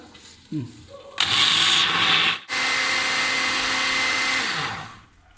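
A kitchen blender grinds soaked lentils into a coarse paste for oil-free dahi bara, whirring loudly and steadily in two long bursts separated by a brief pause, with a short motor whine before them.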